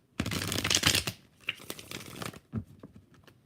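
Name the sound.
tarot cards being shuffled and drawn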